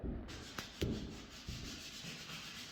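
Rhythmic rasp of hand sanding on pine shiplap boards, quiet and close, with a few soft knocks between the strokes.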